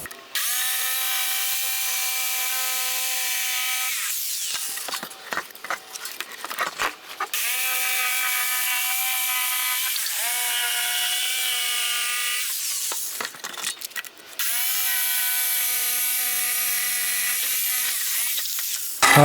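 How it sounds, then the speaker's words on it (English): A jigsaw buzzes steadily through wood in three long cutting passes, cutting out a hammer form, separated by brief pauses and rattling as the blade is repositioned. Loud and close. "Now I'll cut this out with a jigsaw."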